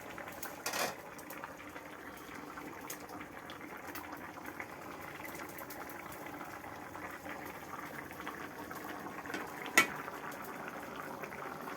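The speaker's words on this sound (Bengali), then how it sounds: "ফুটিয়ে নামিয়ে নেব।" Magur fish curry boiling in a pot makes a quiet, steady bubbling simmer, faint and close, with a couple of brief louder knocks.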